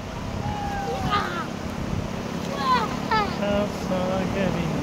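Sea waves wash continuously onto a beach in a steady broad rush, while several people talk and call out over the surf.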